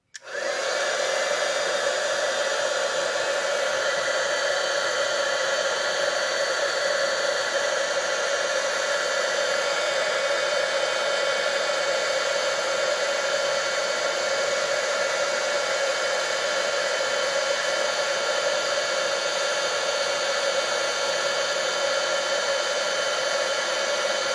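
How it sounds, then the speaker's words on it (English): A heat gun blows in one continuous, steady loud whir at close range, melting embossing powder on a stamped image. "I'm just basically going to be heating this image up so that I'm melting the embossing powder."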